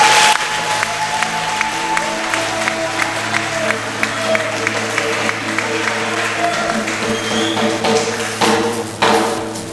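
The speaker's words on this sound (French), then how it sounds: "Des applaudissements très nourris pour Diaoufoué" Warm applause from a crowd at an outdoor political rally in Côte d'Ivoire, continuous clapping with distinct sharp claps standing out, over a steady hum, ending in a few louder thumps.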